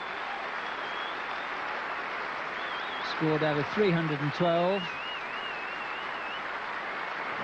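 A substantial crowd at Edgbaston applauds steadily throughout, warm and even, after Graham Gooch reaches 150 in the 1990 England versus New Zealand third Test, with a commentator speaking briefly over the clapping.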